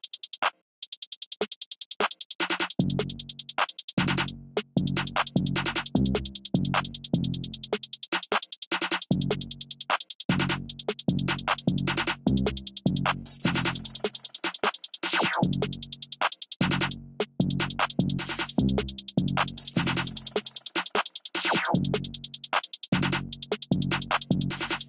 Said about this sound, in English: the percussion sound like this.